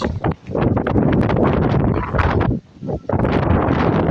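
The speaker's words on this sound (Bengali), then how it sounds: "কি পরিমাণ বাতাস" Strong wind roars steadily against the microphone, a loud continuous rush with brief lulls.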